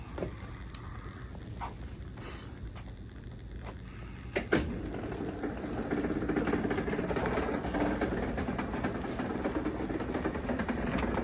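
A Club Car electric golf cart, newly fitted with a replacement controller, whirs into motion when the pedal is pressed. A steady mechanical drone is heard near and fairly loud; it builds after a sharp click partway through and then holds at a constant level.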